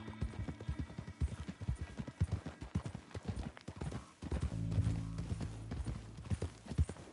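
Horse hooves clip-clop at a steady trot in a PS4 video game, rhythmic and close, with a rider's brief murmur and a denser stretch of hoofbeats midway.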